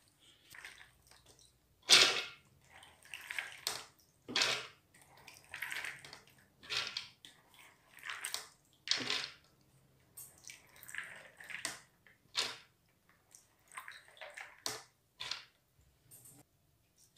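Soaked beans and water are poured into a blender in a kitchen, producing a series of wet splashes, sloshes and drips in irregular bursts, close and fairly quiet, with no talking.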